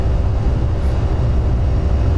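A Boeing 757-300 departing in the X-Plane 12 flight simulator, with a steady, loud low-pitched engine roar and a constant whine, no breaks.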